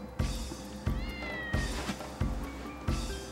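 A cat meows repeatedly in the Dark Cloud video game, five short calls at a steady pace, each with a sharp onset and a rising, wavering tone, heard clearly with no talk over them.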